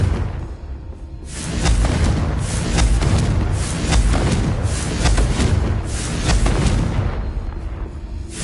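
Confringo blasting spell exploding in the Hogwarts Legacy video game: loud, rolling booms and rumbling blasts surging in several waves over about eight seconds, dense and close.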